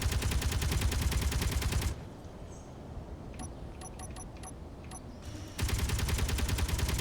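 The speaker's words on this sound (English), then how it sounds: "let's test out some of the weapons for the small grid first. Up first is the Gatling guns." Small-grid Gatling guns in Space Engineers fire in two sustained, rapid, dense bursts, one at the start and one at the end, separated by a quieter gap with light metallic clicks.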